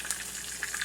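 A steak sizzles and spits in a hot oiled pan, a short, steady, close frying hiss with small crackling pops and no voices.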